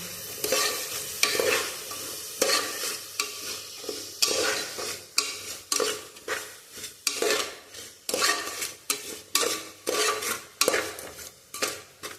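Stirring carrot and beans stir-fry in a pan: repeated scraping strokes of a spoon against metal, with a soft sizzle underneath, near and fairly loud in an irregular rhythm, no voices.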